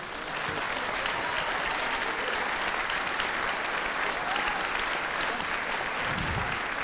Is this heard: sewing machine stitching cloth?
no